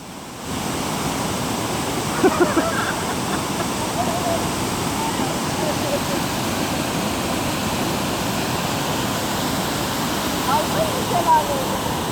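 Maden Creek waterfall in Karasu, Sakarya pours with a steady, dense roar of rushing water, constant and close throughout, with faint voices briefly audible over it.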